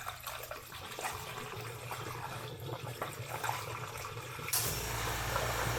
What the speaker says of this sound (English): let me just do a quick flush this time using a funnel